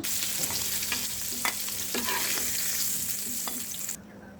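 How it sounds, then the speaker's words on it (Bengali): Carp (karfu) fish and chopped eggplant pieces fry together in oil, a close, steady hiss of sizzling with occasional spoon scrapes and pops, then a sudden drop to quieter frying at the end. "সাথে টুকরো করা বেগুনগুলো ভেজে নেব"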